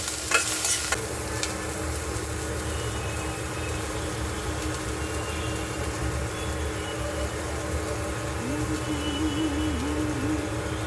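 Spices frying in a pan while being stirred for dal, a continuous soft sizzle with scraping stirring strokes near the start, a steady hum underneath, and no voices.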